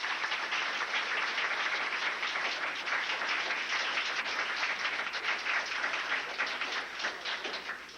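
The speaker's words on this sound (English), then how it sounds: "both sides deserve a round of applause" Steady, dense applause from a crowd at a 1986 quiz contest, many hands clapping continuously at an even loudness for several seconds, with no talking over it.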